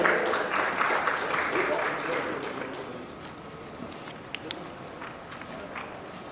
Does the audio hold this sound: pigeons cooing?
no